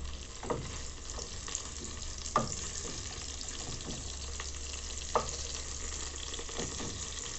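Shrimp (camarons) sizzle steadily in a hot pan for a shrimp sauce, with a few sharp scraping knocks as the pieces are turned over; no talking.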